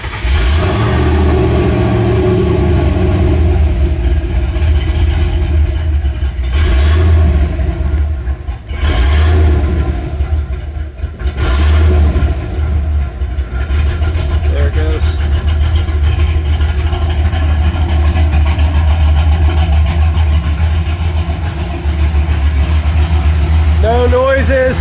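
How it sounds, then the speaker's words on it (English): A Square Body truck engine with an aggressive cam, running without a radiator or coolant, idles loud and rough close by, with a few revs and dips, while a person talks briefly over it. "I don't have a rad on it or coolant in it yet, but I'll start it anyway real quick."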